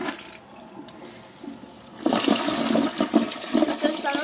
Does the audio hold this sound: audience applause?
no